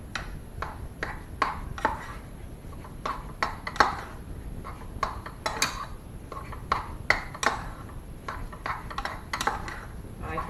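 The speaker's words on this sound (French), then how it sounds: "on va la mettre sur le feu et on va la dessécher" Choux pastry dough is worked in a pan over heat to dry it, giving a steady run of close, irregular scraping and clinking of a utensil against the pan, with no talk.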